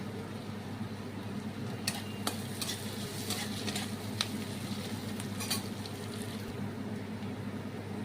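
Steady sizzling of onions frying in a pan, with occasional sharp scrapes and clinks of a spoon stirring against metal.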